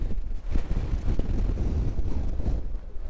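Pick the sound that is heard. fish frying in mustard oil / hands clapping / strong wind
strong wind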